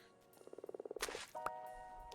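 A Minecraft frog croaks in a quick series of about a dozen even pulses, then a brief thud and a short tonal chime follow, quiet and close with no talking.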